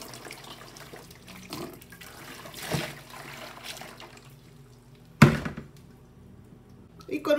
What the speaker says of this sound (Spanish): Le voy a poner agua encima.